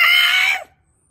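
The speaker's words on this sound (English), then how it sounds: "The bull male, Pentaceratops, screams in terror." A Pentaceratops bull's screaming roar, loud and shrill with a harsh, bird-like edge, held for about half a second before cutting off into silence.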